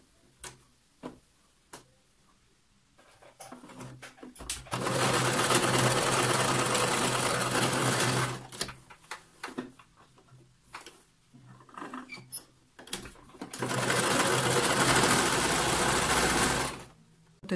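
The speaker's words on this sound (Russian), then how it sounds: "Сейчас мне необходимо застрочить до метки." A sewing machine stitches a reusable fabric face mask in two long, loud, steady whirring runs, close up, separated by quieter stretches of clicks, taps and fabric handling.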